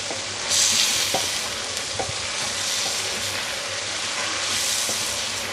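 Garlic sizzling and frying in hot oil in a pan, with a steady crackling hiss and occasional scrapes of a spoon stirring, close up with no talking.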